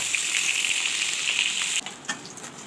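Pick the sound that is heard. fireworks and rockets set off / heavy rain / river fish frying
river fish frying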